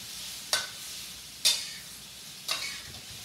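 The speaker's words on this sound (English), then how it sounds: "Give it a quick saute." Shrimp sautéing over medium heat in a non-stick pan, a soft background sizzle broken by three sharp, evenly spaced stirring scrapes or tosses, close and without talk.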